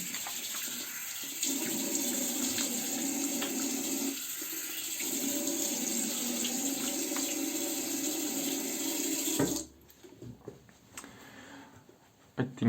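Water runs steadily from a bathroom tap into a sink during face washing after a shave, a continuous close hiss for about nine seconds. Then it shuts off, leaving faint splashes and small handling noises.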